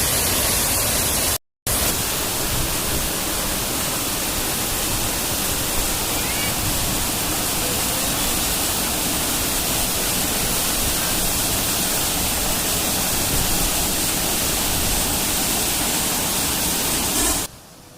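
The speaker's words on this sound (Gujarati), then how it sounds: "પાણીની ગર્જના કાનમાં સંગીતની સમાન વાગે છે" A roaring forest waterfall near Dharampur, south Gujarat, fills the air with a dense, unbroken rush of water, loud and constant, briefly cutting out near the start.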